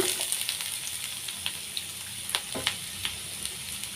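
Chopped chayote and dried red chillies frying in a pan of oil for a buttermilk curry, a soft steady sizzle punctuated by light scraping and tapping of a spoon, no speech.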